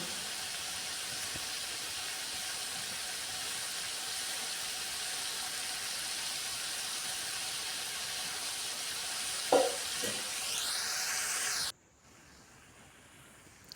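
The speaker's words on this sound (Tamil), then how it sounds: "இதை கொஞ்சம் மீடியம் ஃப்ளேமாக வச்சு வறுத்தாக்கா நல்லா செவந்து வரும்" Mochai (field) beans roasting in a pan over a medium flame give a steady, soft sizzle and hiss with a brief stirring clatter near the end before the sound cuts off.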